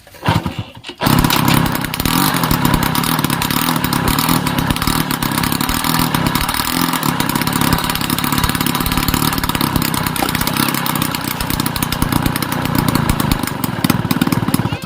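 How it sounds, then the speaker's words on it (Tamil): A TVS XL Super moped engine runs loud and rough close by, its faulty silencer roaring with a raspy, rattling drone that barely changes. "வண்டியை இப்ப ஸ்டார்ட் பண்ணி காட்டுறேன் பாருங்க எவ்வளவு சவுண்ட் வருதுன்னு"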